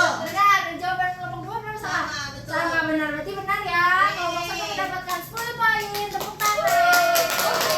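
Schoolchildren in a classroom chanting a rhythmic clapping cheer, young voices singing a call-and-response tune loudly over patterned hand claps for several seconds.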